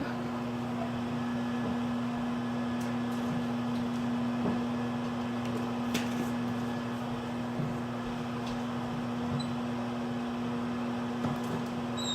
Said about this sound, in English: pop it in the microwave for 5 minutes